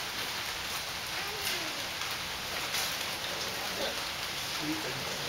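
Steady rain falling at a zoo gorilla enclosure, a constant broadband patter with faint bird coos in the background and possible distant voices.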